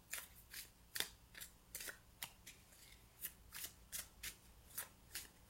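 Tarot cards being shuffled by hand, with crisp riffling bursts repeating in an even rhythm, close and quiet with no talking.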